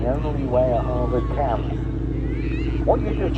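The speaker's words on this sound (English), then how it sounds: "that was the sound of the propeller tips going supersonic." A loud, harsh rasping drone from a Harvard propeller aircraft at an airshow, steady and close, with a buzzing, tearing edge from the propeller tips going supersonic over a deep throbbing engine note.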